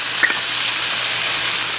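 Onion and bay leaf frying in bacon fat, a loud, close, continuous sizzle with a bright hiss and no talking.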